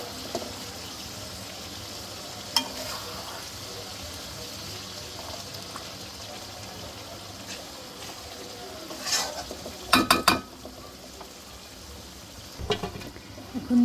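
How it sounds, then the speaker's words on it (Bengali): River aair fish being gently stirred and fried in a pan: a low, steady sizzle with occasional soft scraping and a few sharper utensil clinks near the end. "মাছটাকে হালকা হাতে নেড়ে চেড়ে তারপর একটুখানি কষিয়ে নিব"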